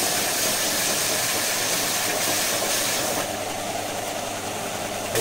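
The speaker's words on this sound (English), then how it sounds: "So I'm going to sand off the nasty bit on both sides, get it down to a straight edge." A power sander works on a plastic instrument binnacle panel from a Land Rover Series 3, giving a continuous close whirring hiss that stays steady and loud with no voices.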